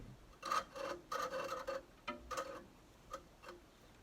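A chisel scraping wood on a lathe gives several short, raspy scrapes in uneven bursts, close but fairly quiet, with faint ticking contacts in the gaps and no speech.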